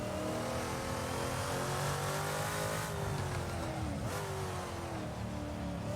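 Can-Am race car at the Goodwood circuit, its engine roaring loud and close under sustained acceleration, pitch climbing and dipping through gear changes near a braking zone at very high speed.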